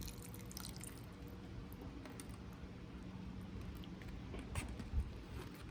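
Water trickles and drips steadily into the soil of a potted tomato plant, a faint continuous pattering with a couple of slightly louder drops near the end, and no voices.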